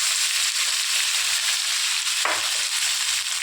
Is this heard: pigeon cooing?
no